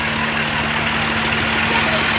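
A tractor engine labors steadily while pulling a loaded trolley through soft sand dunes, a continuous close, loud drone with a low hum and no pauses.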